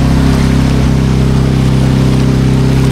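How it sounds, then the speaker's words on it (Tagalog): A boat's engine drones steadily and loudly while strong waves rush and churn around the hull, a constant close roar with no talking. "Malakas ang alon."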